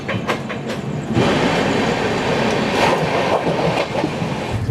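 Train leaving a station on its way to Barddhaman Junction, a steady loud rumble with rhythmic wheel clatter over the rails, close and continuous, with no talk over it.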